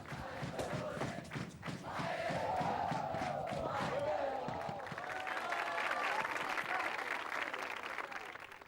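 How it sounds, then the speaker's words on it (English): A crowd of boys cheers and claps raucously at an Eton Fives game in Penang, with a dense roar of shouting voices and applause swelling and holding steady throughout. "I feel sure that Eton boys would struggle to match the raucous enthusiasm of this"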